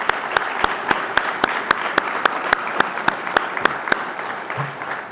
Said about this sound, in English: Please give a round of applause for our training providing partners.